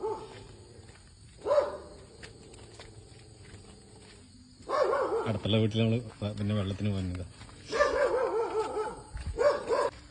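A dog barks in several loud bursts close by, mixed in with people talking.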